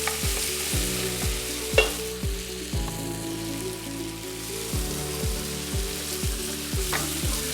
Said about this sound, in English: So we just got this in our pot, just giving that a quick saute.